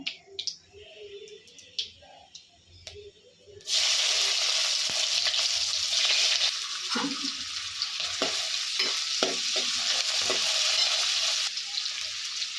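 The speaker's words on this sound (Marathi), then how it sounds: "तेल तापलं का बघण्यासाठी मी थोडीशी राई टाकते. त्यात मी कांदा घालून घेते." Chopped onion hits hot oil with mustard seeds for prawn masala, breaking into a steady, close sizzle that runs to the end after a quieter start with light clatter.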